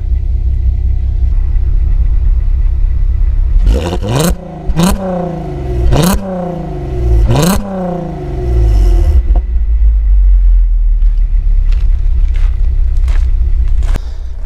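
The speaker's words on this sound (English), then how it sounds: "and I'll give it a little rev." A car engine rumbles deep and loud at idle, then four sharp revs climb and fall in quick succession before settling back to a low idle, followed by a few faint clicks and taps.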